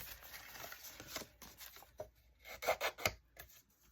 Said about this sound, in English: I'm just scoring it a little more with my nail